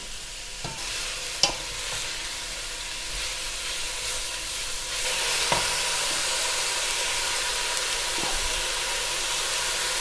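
Onions fry in a pan with salt and herbes de Provence, a steady sizzle and hiss running throughout, broken by several sharp scrapes and knocks of stirring; close and alone, no voices.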